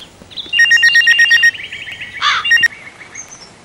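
A phone rings in a TV serial scene, a call about to be put on speaker: bright electronic ringtone beeps in a rapid pulsing burst, a short pause, then a second shorter burst, clear over quiet background.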